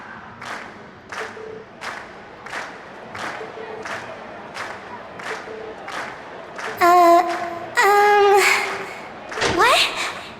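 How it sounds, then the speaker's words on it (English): Crowd cheering and clapping at a concert in a video game, rising in short repeated bursts, then louder swells joined by bright musical tones near the end. "we've heard your cheers loud and clear"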